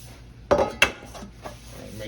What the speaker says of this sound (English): Make sure my pans are completely clean.